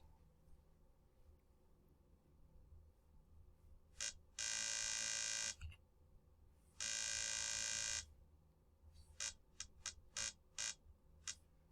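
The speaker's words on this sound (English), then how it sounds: "The alarm should go off." An electronic buzzer sounds in two long, loud bursts about a second each, then a string of shorter rapid beeps, in an otherwise quiet indoor room.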